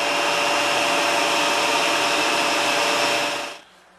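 A hair dryer blows in a campsite ablution block with a steady, loud whooshing hum and a faint motor whine, then switches off abruptly near the end, leaving quiet.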